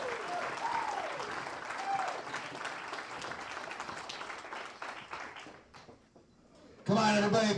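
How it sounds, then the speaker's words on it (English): Crowd applause at a local wrestling show, sustained clapping mixed with shouts and voices, tapering off before a sudden loud burst of voices near the end. "Come on, everybody. Big round of applause for John."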